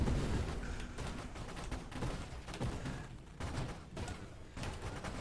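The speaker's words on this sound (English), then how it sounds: "Oh god, so many explosions." Dense, overlapping explosions from the space shooter game Nova Drift in co-op play, a rapid rolling barrage of bursts and thumps that churns continuously at moderate loudness.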